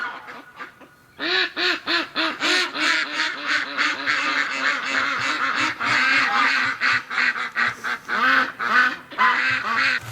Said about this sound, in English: This little duck's got a serious quacker on her